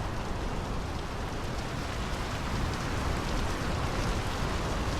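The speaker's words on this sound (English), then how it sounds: "The rain's picking up." Steady heavy rain in the video game Draugen, a dense, continuous hiss of drops drumming on surfaces, loud and unbroken with no voices over it.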